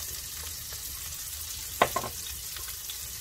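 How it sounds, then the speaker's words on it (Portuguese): Sliced garlic and ginger fry in a pan with a steady, close sizzling hiss, broken by one brief utensil clatter partway through. "alho laminado com gengibre. Vamos deixar lourar."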